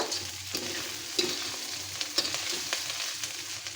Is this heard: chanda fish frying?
yes